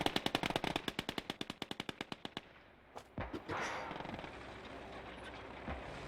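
Rapid machine-gun fire in the World War II game Gates of Hell: Ostfront, a fast string of sharp, loud bursts that stops abruptly, followed by a few scattered heavier blasts and a rumbling tail.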